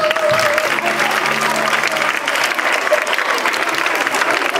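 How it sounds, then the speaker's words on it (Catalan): Audience applause at a school concert, steady dense clapping filling the whole stretch, with brief voices and tonal sounds audible early on beneath it. "Un aplaudiment per ells també, eh?"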